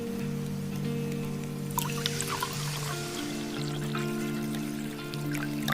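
Water poured into a pot of chicken curry with potatoes, a steady trickling splash with brief bright bursts, running close and continuous over a low steady hum.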